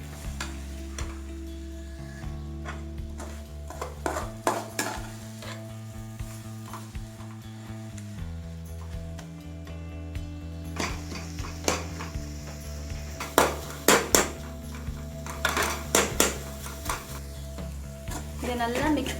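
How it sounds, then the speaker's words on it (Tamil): Egg with drumstick leaves stirred and fried in a pan, with a soft sizzle under steady scraping and clinking of a utensil against the metal, growing busier and louder toward the end; no talking. "இதை நல்லா மிக்ஸ் பண்ணி பொடி பண்ணிக்கணும்"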